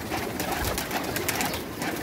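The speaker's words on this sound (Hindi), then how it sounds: "ये कबूतर है।" Pigeons coo softly in a short burst of low, throaty calls, with faint fluttering and rustling nearby and no talking.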